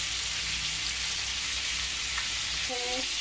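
Beef seekh kebabs frying in a pan, a continuous bright hiss of hot oil, close and even throughout with a faint tonal clink near the end.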